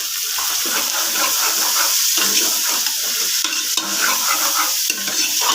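Cauliflower and potato pieces fry in a pan with a dense, even sizzle, broken by repeated scrapes and clatters of stirring, loud and close with no voices.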